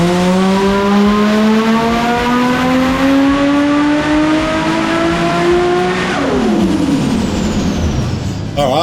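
A Nissan RB30DET engine running 22 psi of boost revs hard on a dyno, rising steadily in pitch at full load for several seconds before the note drops sharply as the throttle lifts, loud and close throughout.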